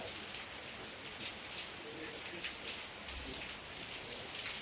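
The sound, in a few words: rain falling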